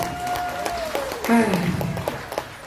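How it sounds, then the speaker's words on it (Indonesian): Scattered applause from a training seminar audience, moderately loud and fairly even, with a voice and a brief swell of sound rising over the clapping partway through. "tepuk tangan untuk PTBS"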